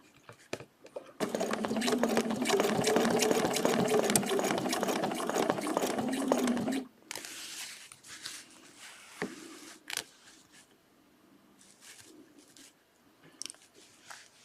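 A sewing machine stitches a spaced feather quilting design in a fast, dense mechanical chatter for several seconds, then stops and leaves quieter handling clicks and rustles.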